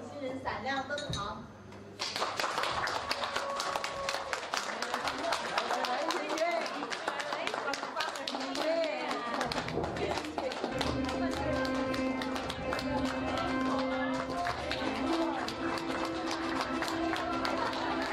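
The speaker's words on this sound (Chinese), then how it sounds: "用掌声有请新人闪亮登场" Guests at a wedding celebration applaud to welcome the newlyweds, with a sustained, dense burst of clapping and crowd noise mixed with music and voices, steady and loud after a brief quieter opening.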